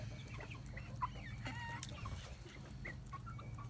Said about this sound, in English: I heard that attempt at a crow.